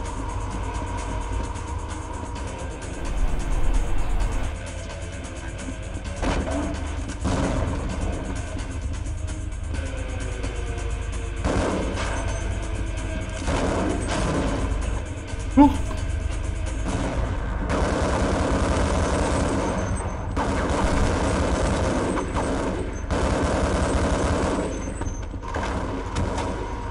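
A tank in Half-Life growls with a sustained, loud, heavy engine rumble, broken by an occasional sharp cannon-like blast amid dense game noise.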